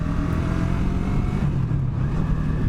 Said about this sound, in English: I like the sound it makes when it's downshifting.